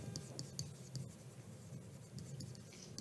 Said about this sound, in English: We write the statements